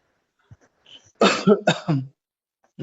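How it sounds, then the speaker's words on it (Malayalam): A short series of harsh coughs, close and loud, after a few faint throat noises, followed by silence. "ചുമയുണ്ട് അതുകൊണ്ട്"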